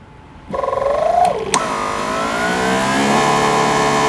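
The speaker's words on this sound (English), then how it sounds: "I'm gonna go ahead and fire this on. You'll hear it ramp up." A GreenWorks Pro 2500psi 1.2gpm pressure washer starts abruptly and its motor whine climbs in pitch, then settles into a loud, steady drone heard up close.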